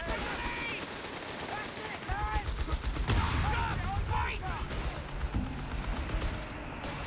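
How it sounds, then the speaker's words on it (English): Base howitzer artillery in a Company of Heroes 3 multiplayer battle, heavy booming impacts mixed with rattling gunfire and battle noise, while a caster talks over the action throughout. "Base howitzer fire coming down."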